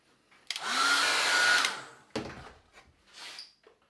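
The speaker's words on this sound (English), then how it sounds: "I'll probably dry it actually with a hairdryer" A hair dryer drying a watercolour painting switches on and blows with a steady whirring rush for about a second, then cuts off, followed by some shuffling and a brief hiss.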